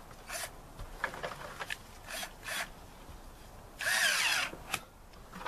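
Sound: power drill tightening steel band clamp

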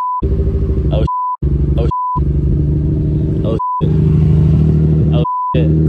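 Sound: VQ engine first start in swapped Nissan 350Z

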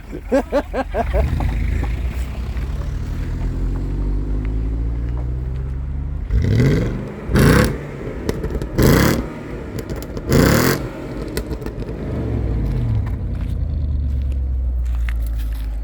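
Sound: V8 car engine and exhaust revving

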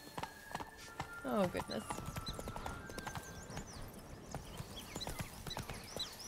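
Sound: horse Roach clip-clopping in video game The Witcher 3

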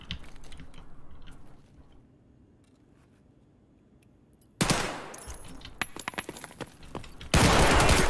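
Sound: gunfire from a video game, Escape From Tarkov

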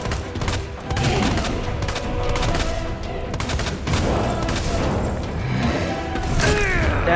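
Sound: gunfire at burning arm in Resident Evil 2 video game

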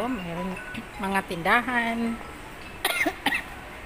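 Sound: cough

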